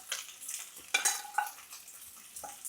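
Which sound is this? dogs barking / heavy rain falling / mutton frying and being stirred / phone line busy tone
mutton frying and being stirred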